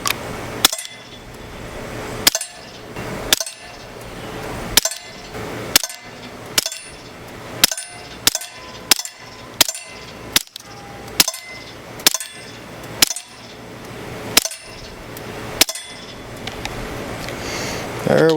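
Suppressed 9mm BCA Grizzly pistol fired outdoors, about sixteen sharp, muffled reports at an uneven pace with short pauses between them, each followed by a brief metallic ring.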